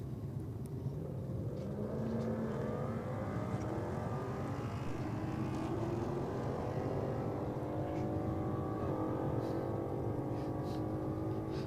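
A Mercedes race car roars steadily close by, its engine note rising and shifting through revs as it drives, a continuous loud rumble with no pauses and no talking.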